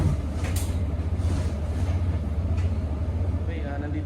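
Inside a moving passenger train, a steady low rumble and hum of the car fills the space, with faint rattles and muffled background voices over the continuous drone.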